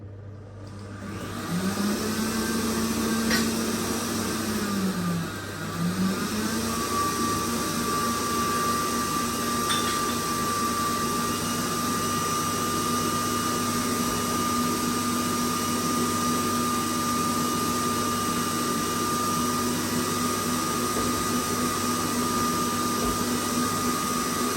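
Eggs whisked for chocolate sour cherry brownies with an electric mixer, giving a steady motor whine that dips briefly near the start, then runs loud and even throughout, close by, with no talk.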